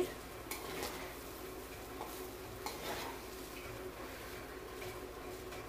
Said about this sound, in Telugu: అంతా బాగా కలిసేటట్టు బాగా కలపండి.